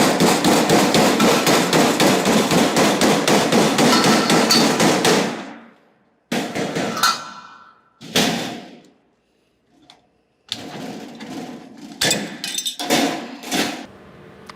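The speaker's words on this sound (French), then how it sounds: "avec l'aide de mon marteau," Rapid, loud hammer blows on sheet-metal ventilation duct closing a T-joint, a steady rhythmic run of metallic strikes for about five seconds, then scattered single bangs and clattering handling noises.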